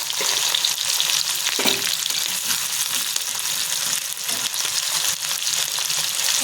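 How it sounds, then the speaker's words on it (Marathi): Vertically sliced onion fries in oil in a kadhai, making a dense, continuous sizzle close by with a few soft stirring knocks and no speech. "कांदा टाकते उभा चिरलेला"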